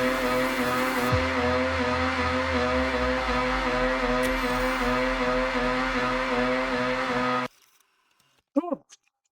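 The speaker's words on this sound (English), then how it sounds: "You want to build up as much speed as you can and just throw it into a drift." A car drifts in the racing game Forza Horizon 6, engine roaring loudly with tires squealing for several seconds before the sound cuts off, leaving near silence and a short chirp.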